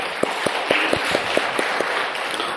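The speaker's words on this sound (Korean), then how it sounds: "주님께 영광의 박수를 돌리십시다" A church congregation claps along during a Sunday service in Advent, a steady run of evenly spaced, fairly loud claps over a faint background hum.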